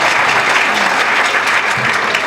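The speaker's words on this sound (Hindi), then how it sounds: "आपके लिए ताली।" An audience at a Bulandshahr meetup claps steadily, a dense, loud, even wash of many hands with no break and no voices standing out.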